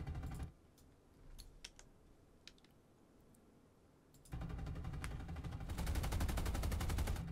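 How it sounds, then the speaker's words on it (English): Aircraft guns firing in a flight simulator on a Horten Ho 229 stealth flying wing: sparse faint shots early, then a loud sustained rapid stream of gunfire filling the second half. "No effects, but you do get gun sounds, which is kind of cool."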